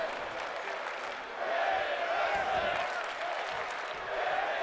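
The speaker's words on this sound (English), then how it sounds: "This crowd is chanting for women's wrestling." A wrestling video game arena crowd roars in a continuous, dense wash of chanting and cheering that swells slightly partway through, with no clear talk over it.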